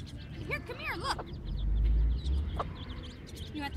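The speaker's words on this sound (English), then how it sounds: "Throw it for the chickens." Chickens clucking and squawking while being fed, several short calls up close mixed with scuffling, with a child's and adult's voices heard talking underneath.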